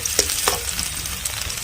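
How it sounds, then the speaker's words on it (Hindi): Chopped onions with green chillies fry in hot oil, giving a close, steady sizzle broken by brief stirring scrapes and crackles, with no talking. "प्याज की कर लेते हैं अच्छे से फ्राई, क्योंकि अच्छी प्याज की फ्राई हो जाए मिर्ची के साथ में।"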